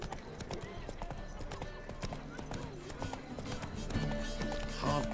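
A horse gallops in The Witcher 3 video game, its hooves beating a rapid, steady clip-clop throughout. A voice is faintly heard over the hoofbeats.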